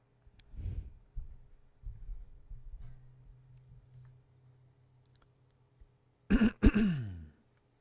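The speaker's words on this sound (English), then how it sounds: "I'm great when it comes to coughing or clearing my throat into the mic" A person clears their throat sharply twice, close into a microphone, with the loud rasping bursts near the end after a stretch of faint mouth noises and low hum.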